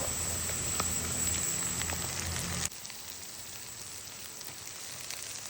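Mushrooms sizzling in a pan with shallots and pancetta, a bright steady crackle and hiss that drops abruptly to a softer, quieter fry partway through.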